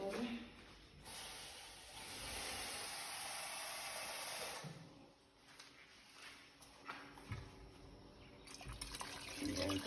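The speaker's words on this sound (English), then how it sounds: "So I'm adding some water." Water pours steadily into a pot of cooking lentils on a high stove, a continuous splashing fill with short breaks and some faint talk behind it.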